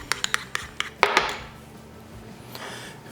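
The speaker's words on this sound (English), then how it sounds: "Give that a quick stir." A spoon clinks and scrapes against a bowl while stirring ketchup and mayonnaise, a quick run of sharp close taps followed by a softer scrape, with no talking.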